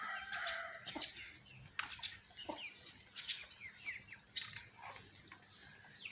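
Hens and chicks feeding on bread in a village yard cluck and peep in scattered bursts, with a rooster crowing among them, moderately close over a quiet background and no talk.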